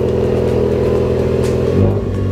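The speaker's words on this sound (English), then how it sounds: "My brother decided to start his car." A car engine turns over nearby in a garage-type setting and settles into a steady, loud rumble with a brief swell of revving near the end; no talking.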